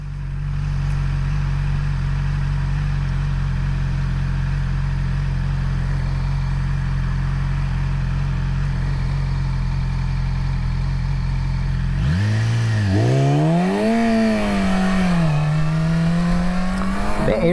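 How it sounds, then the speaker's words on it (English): A 2019 Yamaha YZF-R6 sport motorcycle sits idling with a low, steady hum, then its engine snarls into loud revving and accelerates hard with rising whine through the gears, close and with no talk. "The air induction noise from the engine, just the whirl of the motor, it sounds so good."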